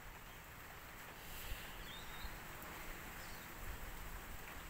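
Steady rain patters with a soft hiss and a few louder drops, fairly faint, with a low rumble underneath.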